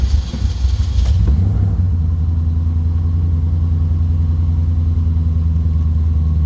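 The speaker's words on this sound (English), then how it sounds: "Very good sounding car." A 1999 Shelby Series 1 sports car engine running just after a cold start, a steady, loud, deep idle after a brief higher rev at the start, close by with no talking.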